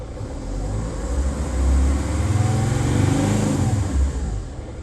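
A Mercedes T1N Sprinter van's diesel engine idles on a cold start with a steady, loud, low rumble that runs without a break and swells slightly midway. No voices are heard.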